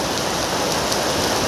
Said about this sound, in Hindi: बारिश तो वैसे दमादम हो रही है एकदम मस्त